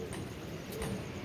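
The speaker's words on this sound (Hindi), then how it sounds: "ये बैठ रहा है जी हमारा कबूतर माशाल्लाह" A pet racing pigeon perched nearby gives a soft, low cooing over faint background hiss, quiet and close, with no one speaking.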